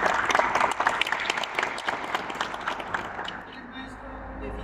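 An audience at a Filipino martial arts workshop breaks into strong applause, dense clapping that gradually thins and fades over a few seconds, with some voices mixed in.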